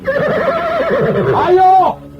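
A horse whinnies loudly as a sound effect in an audio drama, one long quavering neigh that rises and then falls away before stopping abruptly, close and alone.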